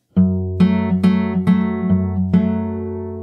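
Acoustic fingerstyle guitar plays an opening pattern: a bass note followed by plucked chord pairs, six ringing attacks in a gentle, even rhythm, close and unaccompanied, the last chord decaying slowly.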